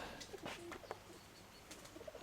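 Pigeons give soft, low coos a few times, faint and distant, against a noisy outdoor background.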